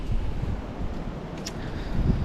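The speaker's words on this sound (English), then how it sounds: "it is very windy out here today" Wind gusts roughly across the microphone in a steady low rumble at Silverstone circuit, loud and close, with no voices.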